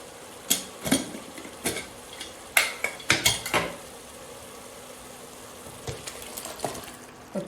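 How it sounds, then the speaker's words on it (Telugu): Mutton tipped into a pot for spicy donne biryani and stirred: a series of sharp metallic clanks and scrapes of a spoon against the vessel, loud and close, bunched in irregular bursts with quiet gaps between. "ఇప్పుడు దీంట్లో మటన్ వేసేద్దాం."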